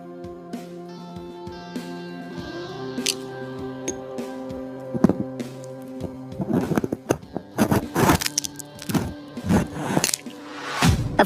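Glass fruit being sliced in an AI-generated ASMR piece starts with a sustained tonal hum, then gives way to a burst of crisp, crackling, crunchy cuts and brittle snaps close up, with no speech.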